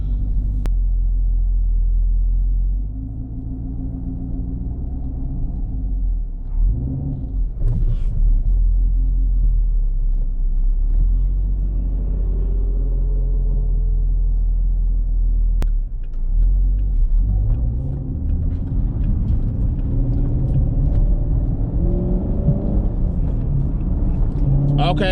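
A Chevrolet Camaro engine rumbles loud and low from inside the cabin, revs climbing in sweeps with short dips where gears are shifted, the rise and drop repeating through the clip.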